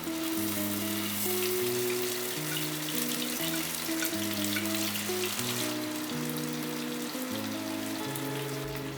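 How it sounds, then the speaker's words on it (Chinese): Chicken breast pan-fries in oil over medium heat, giving a steady bright sizzle and crackle. The sizzle runs under constant background music with a stepping melody. "起油锅，中火下去煎鸡胸肉"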